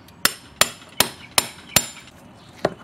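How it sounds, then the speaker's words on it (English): A big socket laid over a wheel bearing on a hub is struck with a hammer in six sharp metallic blows at a steady, unhurried pace, close and distinct with quiet gaps between them. "You hammer until it's seated."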